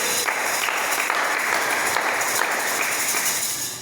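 A church congregation applauding the Lord in lively, sustained clapping with dense, overlapping hand claps that stay loud before tapering slightly at the end.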